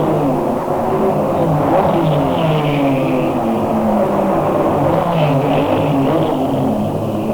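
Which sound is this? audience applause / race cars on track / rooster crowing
race cars on track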